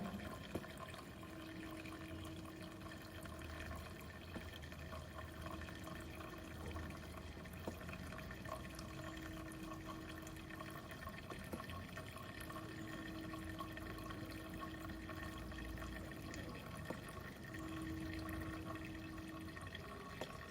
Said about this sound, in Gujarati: ફરીથી નળ શરૂ કરી દેવાનો